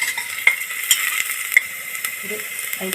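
Mackerel pieces go into a pan of onions frying in oil. A close, steady sizzle runs throughout, with a few soft clatters and stirring scrapes.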